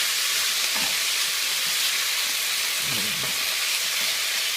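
Cabbage and marinated pork fry in a pan with a steady, loud broadband sizzle throughout, broken by a few soft stirring scrapes.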